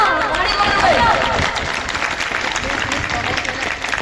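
Applause and crowd noise at a school farewell function, a dense wash of clapping and chatter filling the whole stretch, fairly loud, with voices calling out over it.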